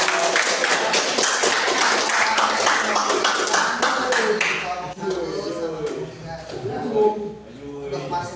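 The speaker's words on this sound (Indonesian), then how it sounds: "Tepuk tangan Mas Ayu." Brisk applause from a small group, dense clapping for several seconds before it fades as a voice begins talking.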